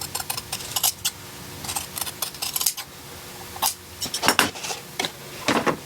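Scissors cutting fabric around a template for a tailored bedskirt, close crisp snips and rustles in irregular short bursts, with no talk.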